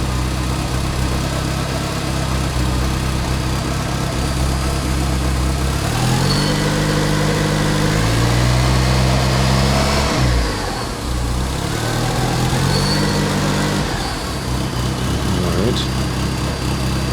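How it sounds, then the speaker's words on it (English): A car engine that recently overheated idles steadily nearby, with a couple of brief revs rising and falling midway before settling back to idle. "Seems to still be idling fairly well."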